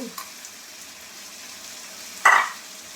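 Ginger and spices frying in a pan give off a faint, steady sizzle, broken near the end by one short, louder burst as something hits the hot oil.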